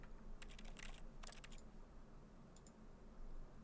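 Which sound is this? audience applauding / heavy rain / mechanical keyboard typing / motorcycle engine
mechanical keyboard typing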